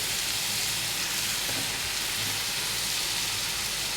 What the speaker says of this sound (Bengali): এবার আমি লোটে মাছগুলো দিয়ে দেবো